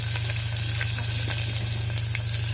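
Garlic, cumin and onion fry in a pan with a loud, constant sizzle and crackle, steady throughout with scattered small pops and no talk.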